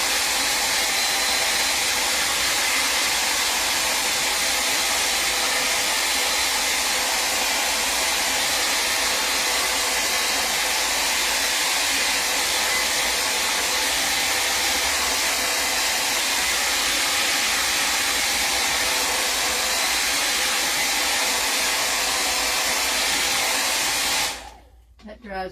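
A heat tool blows a loud, continuous, close rushing hiss while drying stickles on a decoupage Halloween tray, then cuts off abruptly near the end.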